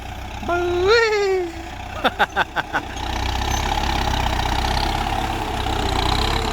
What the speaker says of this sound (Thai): รถไถเกรดเดอร์ครับ